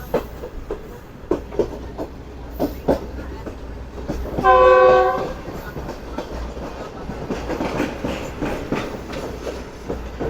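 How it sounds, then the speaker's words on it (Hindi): The Pak Business Express approaches Sahiwal railway station at 3 a.m., its wheels clacking rhythmically on the track, with one loud horn blast of a second or so midway before the rumbling clatter carries on. "सुबह पूरे 3 बजे हमारी ट्रेन अप्रोच बना रही है साहिवाल रेलवे स्टेशन पर"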